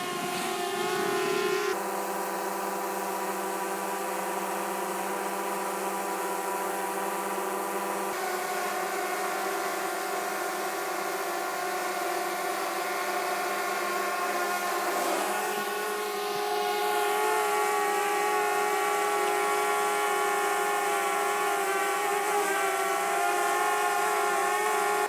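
Several DJI Mavic drones, including Mavic Air, Mavic Mini and Mavic 2 Pro, hover outdoors in light wind, their layered, high propeller whines droning steadily and shifting slightly in pitch over the whole span.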